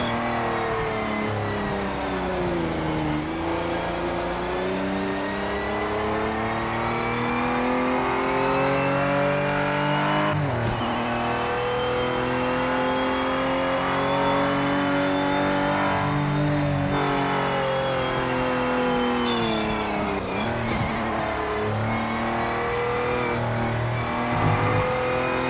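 Race car engines of a Porsche and a Mazda in the Project Motor Racing game, a loud, continuous high-revving drone that climbs and drops through repeated gear shifts and throttle swells, with no talk.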